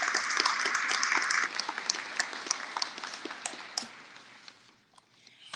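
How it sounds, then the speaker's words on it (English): Audience applause at a Houston Police Department cadet class graduation ceremony, a dense round of clapping in a large room that gradually thins out to scattered claps. "Please give them a big round of applause."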